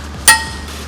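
Two sharp metallic hammer blows ring out, close and loud with a short ringing decay, as a stuck part is beaten loose on a BMW X5 during a timing chain job in a workshop.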